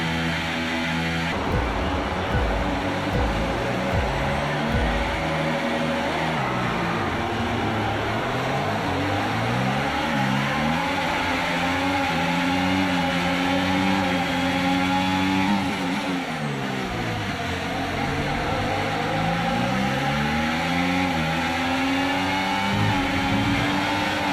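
Formula 1 race cars launch off the grid at the start of a race in the F1 24 video game, a dense chorus of high revving engines climbing and shifting through gears, loud and continuous with no speech.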